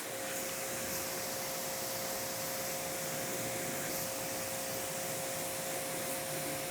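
Water sprays steadily over a car during the first rinse after a ceramic wax wash, a dense continuous hiss with no break from start to finish.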